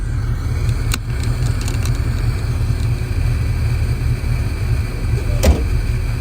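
A 1969 Chevrolet Camaro with an overdrive transmission driving, its steady loud engine rumble and road noise heard from inside the car, with a couple of sharp clicks or knocks over the drone and no talking.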